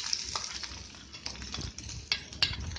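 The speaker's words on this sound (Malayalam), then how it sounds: "എന്നിട്ട് ഇഞ്ചിയും വെളുത്തുള്ളിയും അതിലേക്ക് ഇടുന്നു. എന്നിട്ട് അതിലേക്ക് ഉള്ളി ഇടുന്നു." Ginger, garlic and onion sizzle steadily in hot oil in a kadai, a dense crackling fry with a few sharper pops and spatters rising out of it, close and alone with no voices.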